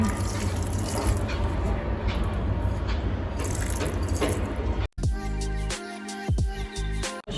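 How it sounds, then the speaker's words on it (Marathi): Water pours steadily onto a plant outdoors in a Konkan village garden, a loud continuous splashing gush that stops abruptly near the five-second mark, followed by quieter ambience with a voice speaking. "सगळ्यात आधी झाडाला पाणी"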